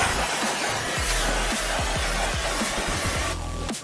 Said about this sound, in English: Just with some standard brake cleaner here.